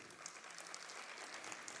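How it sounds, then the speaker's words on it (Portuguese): Audience applause fills a theatre hall at Teatro Amazonas during a special anniversary session, a steady, dense patter of many hands clapping at moderate level with no talk over it. "Vamos aplaudi-lo."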